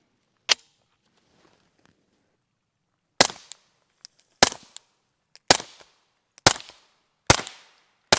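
Glock 17 firing Defender ammunition through a Microtech R2K9 modular suppressor, six sharp suppressed shots, one alone then five in a quick uneven string, each a crisp crack with a short tail, loud and close.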